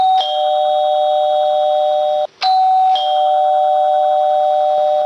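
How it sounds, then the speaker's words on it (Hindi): A doorbell chime rings, a sustained electronic two-tone ding-dong that breaks off briefly and sounds again, loud and close with no other sounds. "तभी डोरबेल बजी।"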